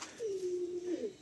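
A single drawn-out, low cooing call from an Allahabadi pigeon, smooth and sustained for about a second before a brief lilt at the end, heard alone and fairly close.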